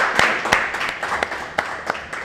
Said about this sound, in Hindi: जोरदार तालियां हो जानी चाहिए बच्ची के लिए